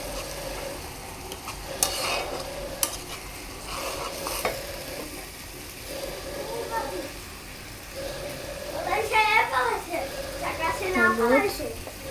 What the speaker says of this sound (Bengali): পেঁয়াজটা ভেজে তার সাথে দিয়ে দিলাম সর্ষে বাটা।